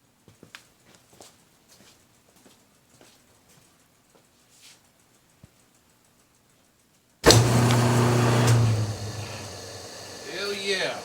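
Near silence with a few faint clicks and taps gives way to the electric motor of a small shop's air system switching on abruptly, then spinning up into a loud, steady whir. A second rise in sound comes near the end.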